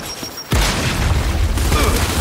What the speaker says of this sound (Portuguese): Lançando granada de fragmentação! Vai explodir!